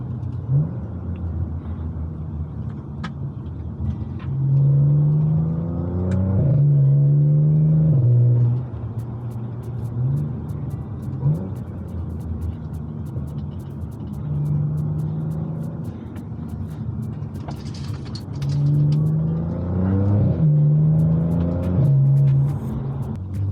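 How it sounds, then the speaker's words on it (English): A stage 2, 500 hp Audi S5 with DSG gearbox revs repeatedly, climbing through rising engine sweeps with exhaust pops and crackles between bursts, loud and close, with a steady idle rumble underneath. "Lovely sound from the exhaust, those classic Audi DSG farts."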